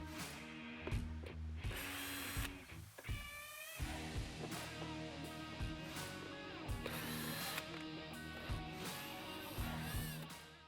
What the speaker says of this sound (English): On the bottom of the fender, we're going to remove the 4 screws holding this protective cover in place.